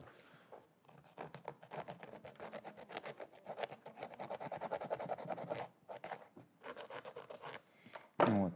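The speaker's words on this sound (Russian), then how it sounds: "здесь лучше всего мне помогает, конечно, наждачка" Sandpaper is rubbed by hand across a Nike sneaker, giving close, rapid scratchy rasping strokes in a steady rhythm with a couple of brief pauses.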